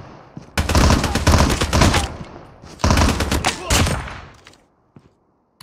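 Video game gunfire during an enemy engagement: two long bursts of rapid automatic fire, loud and close, the first running about a second and a half, the second shorter, then silence with a faint click.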